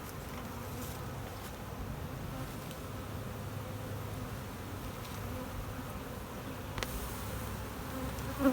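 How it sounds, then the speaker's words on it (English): Many honey bees hum together in a hive in a steady, soft buzzing drone that holds throughout, with a few brief clicks and knocks close by. "it's bubbling with bees"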